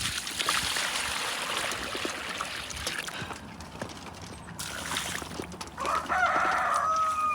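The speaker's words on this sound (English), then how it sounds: "I'm sure the rooster will crow" A rooster crows once near the end, a drawn-out call over a steady rushing background noise.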